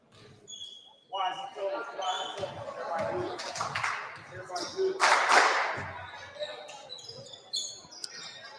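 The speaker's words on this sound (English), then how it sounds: "Have Hamilton Heights Bellways basketball team clapping in my ear" Crowd in a high school basketball gym, with a team clapping and a ball bouncing, dense and close, over a steady hum of voices and squeaks.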